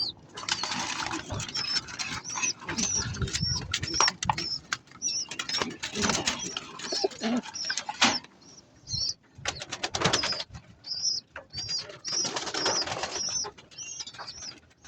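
Racing pigeons in their cage give soft, repeated coos amid rustling and occasional wing flaps, close and moderately quiet, with no one talking.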